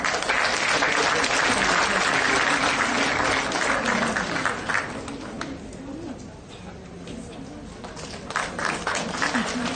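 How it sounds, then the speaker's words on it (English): An audience applauds at a panel discussion with Ruskin Bond as a guest is felicitated on stage. The clapping is loud and sustained, dips in the middle with some murmuring, then swells again toward the end. "A big round of applause."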